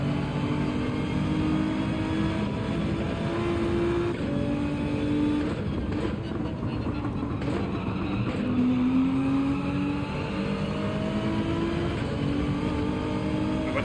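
GT300 race car in Gran Turismo 7 at Watkins Glen, its engine droning and rising in pitch through gear changes, a sustained steady roar with no voices.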